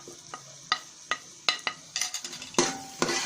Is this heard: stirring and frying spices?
yes